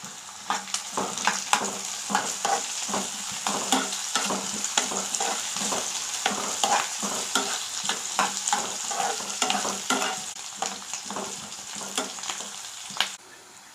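Onion pieces with curry leaves and slit green chillies fry in a pan for a garlic curry: a steady sizzle broken by many rhythmic clicks and scrapes of a spoon stirring, close and without talk.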